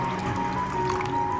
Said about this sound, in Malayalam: ഇനി മിക്സിയുടെ ജാറിലേക്ക് 1 കപ്പ് വെള്ളം ചേർത്ത് കൊടുക്കാം.